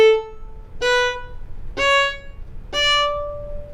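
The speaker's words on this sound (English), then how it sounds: "if you were to play a scale with all staccato bow strokes" Four detached staccato bow strokes climb a rising scale on a bowed string instrument, each note crisp and briefly separated from the next, steady in rhythm and heard up close without speech.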